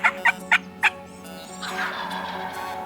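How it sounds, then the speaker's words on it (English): Wild turkeys gobbling during a spring hunt, four sharp gobbles in quick succession from fairly close, followed by a longer, softer run of distant bird calls and rattling gobbles. "There was still a lot of gobbling going on."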